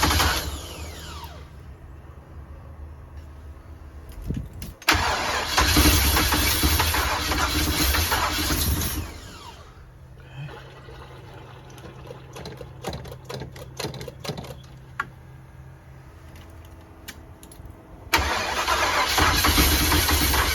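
A 35-year-old RV engine cranking and starting, heard as bursts of loud, close, rough mechanical churning separated by quieter stretches of uneven chugging and clicking before it roars again.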